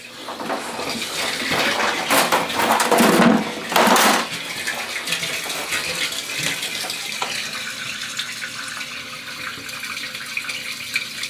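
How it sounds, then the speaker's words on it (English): Water rushing through household drain pipes during a clogged toilet stack cleanout, a steady loud gushing flow with a brief louder surge near the start, continuous throughout with no talking. "Can still hear the water running"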